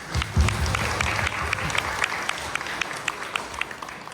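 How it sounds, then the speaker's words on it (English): An audience at a Scout Court of Honor gives Eagle Scouts a round of applause, a steady wash of many hands clapping at moderate distance with a few sharper individual claps, sustained throughout. "can we get one more round of applause for them?"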